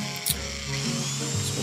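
A power drill boring a pilot hole at a marked spot while making a buddy seat for a John Deere 9530 tractor, heard as a steady, close whir over roughly a second and a half after a brief start.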